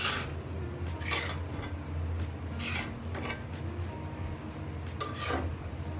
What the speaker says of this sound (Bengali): ভালোভাবে একটু মিশিয়ে দিই